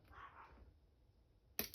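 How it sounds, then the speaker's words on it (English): Small chihuahua dogs yap in a brief burst at the start, fairly faint and indoors, then fall quiet before a sharp clatter near the end. "Oh, my dogs are going ape again."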